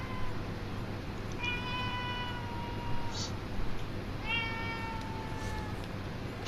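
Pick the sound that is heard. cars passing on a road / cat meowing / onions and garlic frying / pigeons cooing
cat meowing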